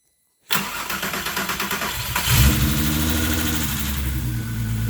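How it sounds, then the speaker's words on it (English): A VW MK4 GTI VR6 engine cranks with a rapid rhythmic starter churn, then catches and fires up into a loud, steady running idle, close to the car. "See if she starts up."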